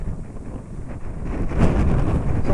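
Steady wind gusts across a hillside slope where RC gliders soar near Villeneuve-sur-Yonne, a dense roaring rush buffeting the microphone and swelling louder partway through, with no voices.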